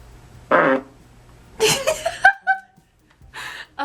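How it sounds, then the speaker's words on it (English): Fart noises are played during a prank phone call, coming as several separate bursts with pauses between them: a short blast, then a longer sputtering run that ends in squeaky tones, then one more burst, with a faint chuckle. "I'm gonna do like fart noises."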